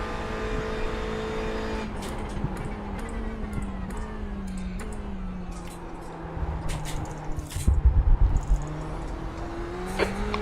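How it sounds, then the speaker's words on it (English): In a GT multiclass racing video game at Monza, a car engine drones steadily and close while faster race cars approach from behind, their rising whine and rumble swelling near the end. "There's some faster cars approaching"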